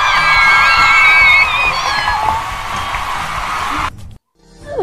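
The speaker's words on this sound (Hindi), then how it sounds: "तालियां एक बार हो जाए शिवा के लिए।" A crowd of children at a party cheers, whoops and shouts encouragement for Shiva during a challenge game. The noise is loud and continuous, with shrill voices throughout, then cuts off abruptly near the end before rising again briefly.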